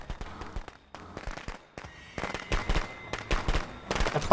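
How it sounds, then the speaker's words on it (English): Fireworks bursting in the Friday the 13th video game, a rapid, irregular string of sharp cracks and pops that builds in loudness and density toward the end. "The fireworks are OP, guys."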